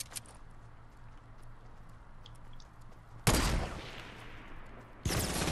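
Gunfire in the video game Fortnite, quiet background with faint distant pops, then two loud close bursts of rapid shots breaking in near the end.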